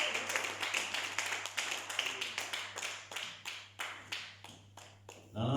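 A church congregation breaks into steady, dense applause, a close crowd of hands clapping in a fast, continuous patter that thins out and fades near the end.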